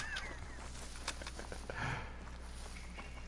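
Faint duck quacks and honks sound over a steady outdoor ambience on the Mississippi map of the hunting game Call of the Wild, with scattered brief calls and no talk.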